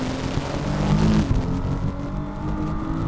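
Formula V6 Asia race cars from 2007 accelerating out of a tight right-hand corner, engines droning loudly and steadily as they climb back up through the gears, a rising mechanical roar.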